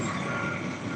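Truck 32 backing up with its reversing alarm sounding, a steady loud electronic beep over dense engine rumble and broadband road noise, heard up close.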